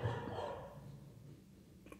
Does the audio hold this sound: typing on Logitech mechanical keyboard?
no